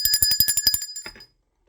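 A small bell rings in a rapid run of about a dozen bright metallic strikes over a second, then stops abruptly, loud and close with no talk.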